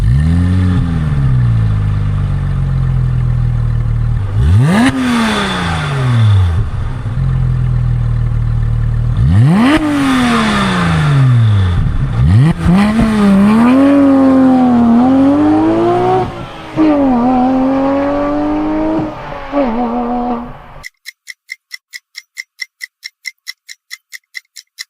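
Porsche engine revving hard with a high-pitched racing tone, loud and close, rising and falling through repeated sweeps and gear changes, then cutting off abruptly into a sharp ticking like a clock.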